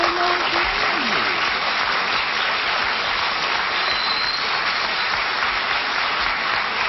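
Studio audience on a 1972 television game show applauding steadily and loudly for the full length, a dense even wash of clapping with no pause and no talk over it.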